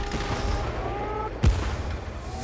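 A single tank cannon shot in the World War tank game Battle Tanks Legends, one sharp loud blast with a short low rumble, set against steady game background noise and engine drone.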